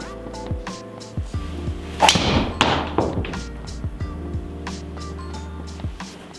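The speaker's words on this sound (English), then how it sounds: "You do get that real traditional Ping sound as well" A Ping G410 driver with a forged face strikes a golf ball, a single loud solid thud-like crack near the middle, surrounded by quieter outdoor knocks and taps.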